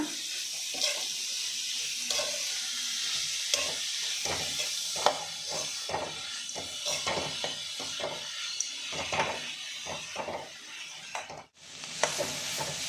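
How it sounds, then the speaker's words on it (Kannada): A carrot rice mixture fries in a pan with a steady sizzle, while a spoon stirs and scrapes through it in repeated close strokes. No one talks. "ಈಗ ಈ ಕ್ಯಾರೆಟಲ್ಲಿರೋ ಹಸಿ ವಾಸನೆ ಹೋಗೋ ತನಕ ಫ್ರೈ ಮಾಡ್ಕೊಳ್ಳೋಣ"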